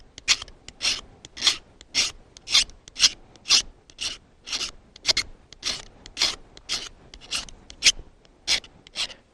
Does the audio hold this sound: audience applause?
no